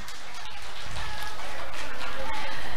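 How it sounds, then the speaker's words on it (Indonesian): Children at a kindergarten play program clap their hands together, a loud, continuous burst of clapping building in strength, with voices mixed in underneath. "Tepuk tangan dong."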